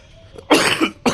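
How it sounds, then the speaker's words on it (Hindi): A single harsh, loud cough up close from a person with phlegm, followed by a second shorter cough. "कुछ दिनों से खांसी वगैरह भी इतनी चल रही है, इतना कफ आ रहा है"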